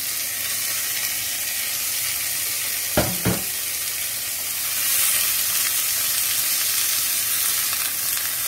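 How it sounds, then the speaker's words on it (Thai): Steady, loud sizzling of broccoli stir-frying in a hot pan over high heat, with a couple of brief knocks partway through and the hiss swelling afterward. "ช่วงนี้เราก็จะผัดบรอกโคลีก่อน"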